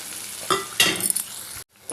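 Semolina (rava) stirred in a pan for rava upma made with a little milk: soft sizzling and scraping with a few metal spoon clinks, then a brief silence before the stirring resumes.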